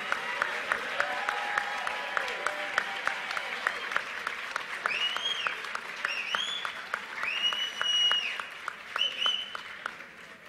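Convention crowd at a Saturday civil rights action rally keeps up steady rhythmic clapping, with cheers and whoops rising over the applause midway before it tapers off.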